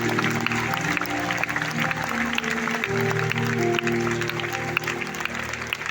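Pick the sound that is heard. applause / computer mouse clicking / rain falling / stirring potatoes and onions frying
applause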